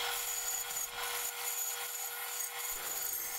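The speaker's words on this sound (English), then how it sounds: "I just cut a taper on the walnut. I just ran it through the bandsaw." A bandsaw rips a taper along a walnut block, a steady rasping cut with a bright, hissing edge that runs for a few seconds, shifting slightly in tone midway as the blade feeds through the wood.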